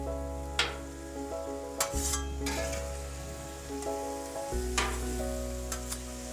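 Steak and onions for a Philly cheesesteak sizzle on a Blackstone griddle as a constant close hiss, with a few spatula scrapes and a steady musical tone underneath.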